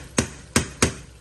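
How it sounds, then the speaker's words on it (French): Three sharp knife chops on a board while onions, aubergines and chives are cut, evenly spaced and close. "les oignons, les aubergines, les ciboulettes. Je coupe ça pour ne pas..."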